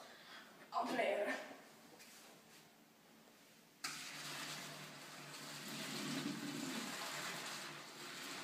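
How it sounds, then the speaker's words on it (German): Cooked noodles for a vegan bami goreng are drained, a brief voice at the start giving way to a sudden steady rush of pouring water that continues to the end. "Wenn die Nudeln noch ein bisschen al dente sind, tun wir sie einfach gerade ableeren."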